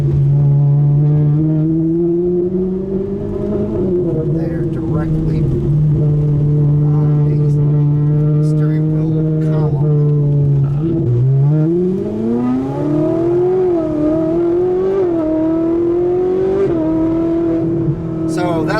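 Ferrari 458 engine at about quarter throttle, a loud steady close drone that rises in pitch through gears with brief dips at shifts, continuous throughout with a voice talking faintly beneath.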